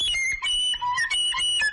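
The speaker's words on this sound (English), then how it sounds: "this is the sound of a recorder" A shrill, breathy recorder plays a quick wavering run of high notes, squeaky and uneven, with no talking.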